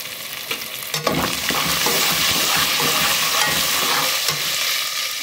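Onion, garlic and ginger fry in a pan with a dense, steady sizzle close by, broken by clatter as the mixture is stirred, with no talking.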